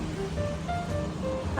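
Sea waves wash along a clear-water shore after rain, a steady close surf hiss mixed with gusts of wind and faint background tones.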